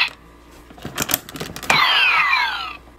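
A CSM Kabuto Zecter toy belt from Kamen Rider Kabuto in cast off mode gives a few short clicks and electronic effects, then a bright sweeping synthesized tone that falls away over about a second, loud and close with no talk.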